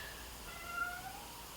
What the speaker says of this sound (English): We have a cat yelling in the background.